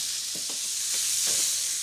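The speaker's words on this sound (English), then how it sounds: "this just needs to be turned in the pan, and all the gubbins from frying the chicken, it'll all add to the flavour" Chicken pieces frying in a pan, a steady bright sizzle throughout with a few soft scraping stirs or turns beneath it, close and continuous, no talking.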